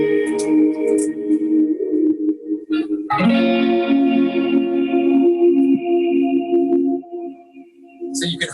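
A sustained synth tone with a long reverb tail, shifting to a brighter chord midway before decaying; no voices.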